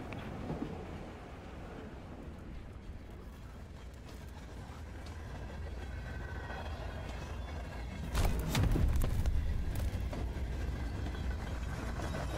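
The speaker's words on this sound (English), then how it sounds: "Oh yeah, we're on a train." A train rolls along rails in the video game Darq with a continuous low rumble and mechanical rattle, swelling into a louder clattering burst partway through.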